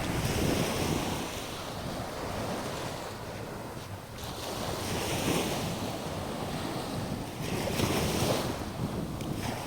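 Surf rolls steadily onto a quiet, empty beach at Lipa Noi, Koh Samui, a continuous wash of breaking waves with swells every few seconds and wind buffeting the microphone.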